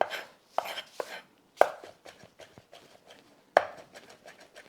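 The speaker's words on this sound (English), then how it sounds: "My mezzaluna is my favorite way to chop these types of things" Fresh garden chives being chopped with a mezzaluna on a board, a run of sharp, close rocking knocks in uneven bursts with quiet gaps between, no voices.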